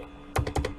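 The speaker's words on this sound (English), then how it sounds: "type one after the other so that you can see what I'm typing" Keys clack on a computer keyboard as HTML code is typed, four quick close strokes in a short burst, alone and fairly loud against a quiet background.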